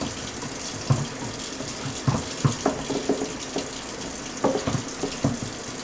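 Tap water runs steadily into a sink while a hedgehog cage's smooth exercise wheel is rinsed, a constant close splashing hiss broken by irregular knocks and splatters as the wheel is moved under the stream.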